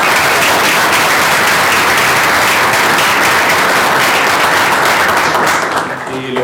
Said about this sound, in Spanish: Ok, le damos un aplauso.